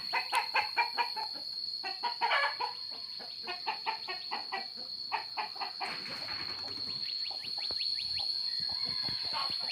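Chickens cluck and a rooster crows close by on a hillside farm, with repeated bursts of calls in an uneven rhythm over a steady high insect whine, no talking.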